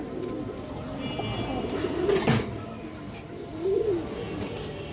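A domestic pigeon at a market stall coos in a couple of moderate rising-falling phrases, one near the middle and another toward the end, over a steady background murmur.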